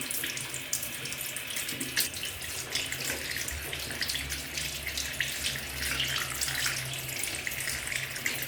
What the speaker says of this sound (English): rinse them off under a tap.